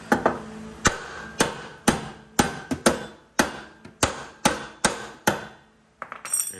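Hammer blows on a car's steering knuckle to free the upper control arm during a coilover install, about a dozen sharp metallic strikes in a steady rhythm, loud and close, no talk.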